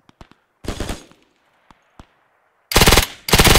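A .30 cal machine gun fires in the World War II shooter Hell Let Loose, with loud rapid bursts, a short one early and two long sustained ones at the end, after a few scattered single shots.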